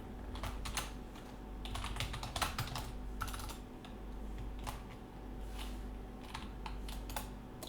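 Typing on a computer keyboard: quick, irregular bursts of light key clicks with short pauses, close and fairly quiet, with no voices.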